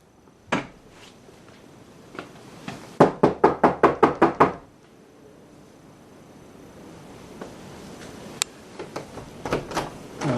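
Loud knocking on a locked house door during a court-ordered armed entry for an eviction: one sharp knock, then a rapid burst of about eight hard raps, followed by scattered fainter knocks and rattles.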